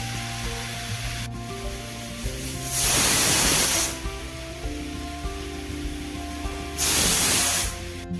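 Steam bursting from a pressure cooker whistle on a kitchen stove, two loud hissing releases a few seconds apart, each lasting about a second, over a quieter background of cooking noise.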